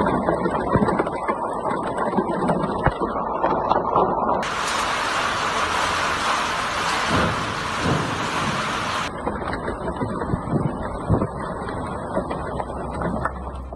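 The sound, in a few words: hailstorm with thunder and rain in Dammam, Saudi Arabia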